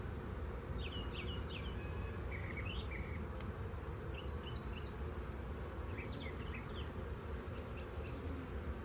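A low, continuous hum of honeybees fills the air as hive frames are handled during a spring inspection, with scattered bird chirps piping faintly above the steady buzz.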